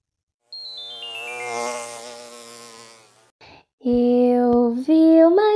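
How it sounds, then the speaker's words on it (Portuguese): A bee's buzz is represented in a children's song, with a sustained droning hum that sweeps in pitch. It is followed by sung notes, close and clear. "Eu vi uma abelhinha voando no jardim."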